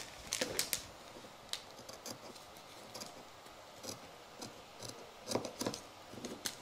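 Scissors snip through fabric being cut out for a dress bodice back piece, with a run of sharp, close clicks and cuts coming in uneven bursts, alone without talk.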